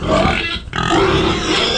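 Farm pigs grunt up close, a dense run of low, rough grunts that continues almost without pause, with one short break in the middle.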